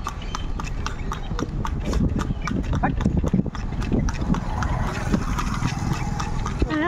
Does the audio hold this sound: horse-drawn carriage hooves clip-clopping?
yes